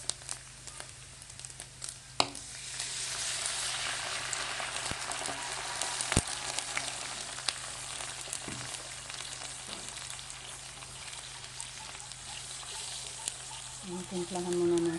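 Broth poured onto meat frying in oil, a sustained hissing sizzle that flares up and settles into steady bubbling, with a few sharp clatters and a voice near the end.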